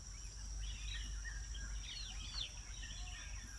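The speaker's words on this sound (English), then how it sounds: "Birds chirp away." Small birds chirp and twitter in quick, high bursts outdoors in a pasture, fairly faint against a steady insect drone and low rumble.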